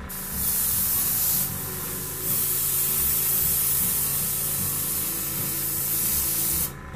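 An airbrush hisses steadily and loudly as it sprays a weathering paint mixture onto an N scale model boxcar, with a short break in the spray partway through and the hiss stopping near the end.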